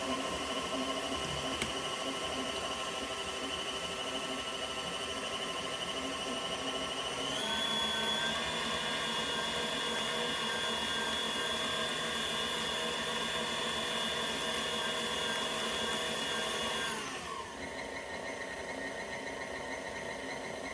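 An electric mixer beats butter for cake batter with a close, steady motor whine that stays constant and shifts pitch twice as the speed changes.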